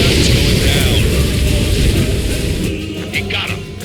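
Enemy aircraft struck and blowing apart in the Ace Combat 7 flight combat game: a loud, sustained explosive rumble with dense low-end roar that slowly thins out, plus a few sharp crackles near the end.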